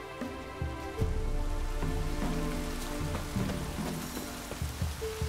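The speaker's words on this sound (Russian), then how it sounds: "Ох, дождик." Rain falling in The Witcher 3 video game, a steady patter on surfaces underneath ambient game music with sustained tones and occasional deeper notes, continuous throughout.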